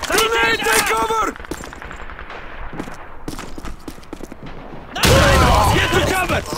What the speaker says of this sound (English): Grenade, take cover!